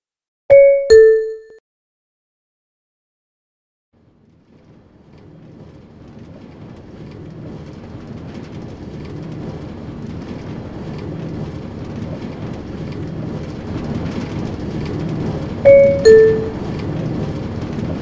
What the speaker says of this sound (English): The train at platform A is now departing. Please stand clear.